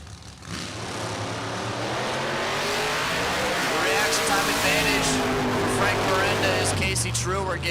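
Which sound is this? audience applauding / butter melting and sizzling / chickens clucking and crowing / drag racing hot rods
drag racing hot rods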